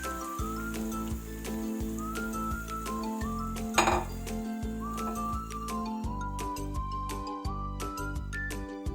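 A cooking pot is scraped and clinked with a utensil while it is cleaned, with light metallic knocks over quiet background music.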